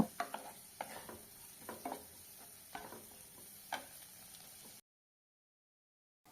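Lightly fried vegetables and salt are stirred in a pan for peri peri pasta. Faint, rhythmic spoon clicks and scrapes sound over a low sizzle, then silence near the end.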